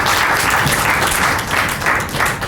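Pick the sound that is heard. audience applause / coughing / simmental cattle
audience applause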